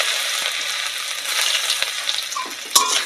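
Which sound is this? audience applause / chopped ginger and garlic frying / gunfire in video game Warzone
chopped ginger and garlic frying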